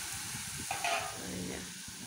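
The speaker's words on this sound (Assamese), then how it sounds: "এই আলুখিনি ভাজি লৈছোঁ তাৰপিছত এনেকৈ অলপ পানী দি লৈছোঁ" Water is splashed into fried potatoes in a hot pan, giving a short, soft burst of hissing steam that fades quickly against a quiet background.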